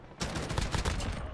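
Odin rifle fired in a video game, a loud rapid string of heavy gunshots with a booming, punchy body, several shots in quick succession over about a second, with no talk during the burst.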